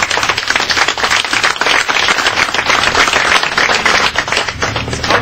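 A large outdoor crowd at a commemoration of the Battle of Cannae anniversary in Barletta claps steadily and loudly for Michele, a dense, continuous wash of applause with no talking over it.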